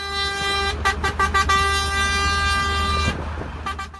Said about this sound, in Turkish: Havalı kornalar eşliğinde yola çıkan sünnet konvoyu